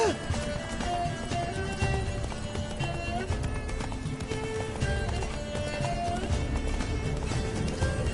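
Roach, the horse in The Witcher 3, gallops with a steady rapid clip-clop of hooves that runs the whole way through, mixed with game music and other in-game sounds.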